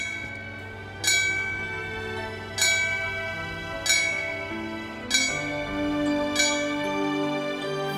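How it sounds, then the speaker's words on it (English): A fire bell rings slowly at a memorial for wildfire victims, five clear resonant strikes about a second and a quarter apart, each ringing on and overlapping the next. "the fire bell was rung 42 times for lives lost in wildfires"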